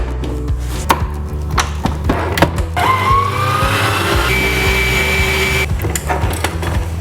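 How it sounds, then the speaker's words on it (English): Stand mixer whisking eggs into a fluffy mixture: a steady whirring motor hum with a rising whine, preceded by clattering and knocks as the bowl and whisk are fitted; no talk. "So I'm now going to hook this up to my mixer and let it whisk away."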